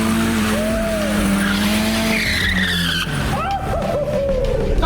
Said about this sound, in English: Here was me lining up at Santa Pod against Shmee 150 in his Ferrari SF90.